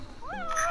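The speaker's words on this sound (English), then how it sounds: "You're one spoiled cat." A pet cat lets out a single short meow that rises and falls in pitch, close up and clear, lasting under a second.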